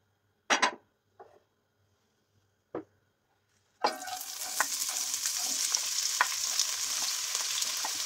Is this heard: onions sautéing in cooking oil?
yes